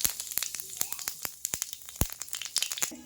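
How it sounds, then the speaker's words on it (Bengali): Whole cumin seeds spit and crackle in hot oil in a frying pan, a dense run of close, sharp pops and sizzles with no speech over it. "তেলের মধ্যে দিয়ে দিচ্ছি গোটা জিরে।"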